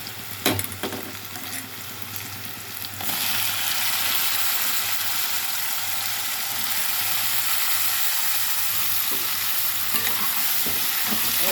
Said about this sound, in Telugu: ఇప్పుడు వంకాయ ముక్కలు వేసేస్తాను.